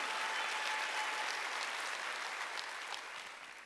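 Church congregation clapping during a Sunday worship service, a steady wash of many hands that fades slightly toward the end.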